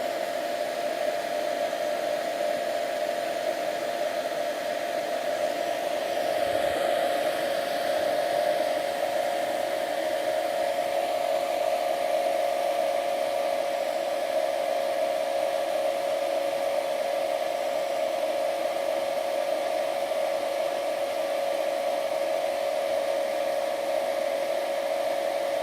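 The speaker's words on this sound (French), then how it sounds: "Je vais tout de suite mettre un petit coup de sèche-cheveux" A hair dryer blows on fresh paint at close range, a steady whirring blow with a constant high motor whine that holds throughout without pause.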